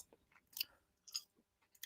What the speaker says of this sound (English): chewing that very loudly into the microphone